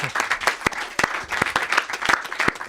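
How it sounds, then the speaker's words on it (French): A comedy-show audience applauds a performer named Dorian, with rapid, sharp claps in a lively burst that stays loud and close throughout the few seconds. "On applaudit Dorian, s'il vous plaît"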